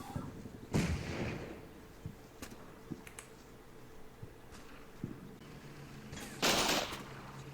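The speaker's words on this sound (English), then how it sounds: "Gunfire from the destroyed house." Video game gunfire from Combat Mission Black Sea: scattered bursts crack and thump at a distance, irregularly spaced, with a louder volley near the start and another toward the end.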